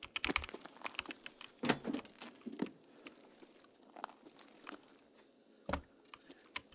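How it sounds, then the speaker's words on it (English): A computer keyboard is struck and typed on during a Tarkov gaming session, giving irregular sharp clacks and taps, some louder bangs between quieter key presses, close to the microphone. "just smack my keyboard with my mouse"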